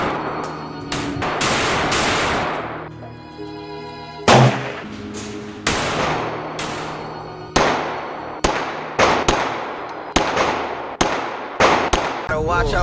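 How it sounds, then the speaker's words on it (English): A SIG Sauer P320 M18 pistol fires a series of sharp, loud gunshots outdoors. An early cluster comes fast, followed by spaced single shots at a steady pace, each with a short echoing tail, while music plays underneath. "I'll be doing my first shots and review of the SIG Sauer P320 M18"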